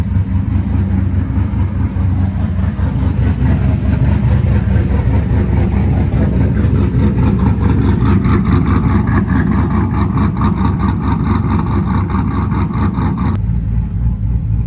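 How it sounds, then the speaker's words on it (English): A 4.8, 5.3 or 6.0 LS V8 with a loping cam and an idle-surge fault idles nearby: a loud, steady, low rumble with a rhythmic pulse that cuts off abruptly just before the end. "You can even hear the cam better now. I'm not sure if you can hear it, but it's loping better."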